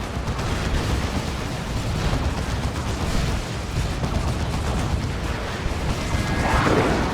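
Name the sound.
lascannon firing in Warhammer 40,000: Dawn of War 2 video game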